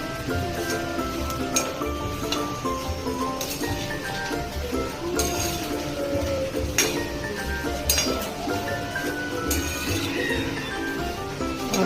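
Puffed rice is stirred and roasted in a pan until crisp, giving a steady stream of light clinks and scraping rattles close by, with no talk over the continuous stirring.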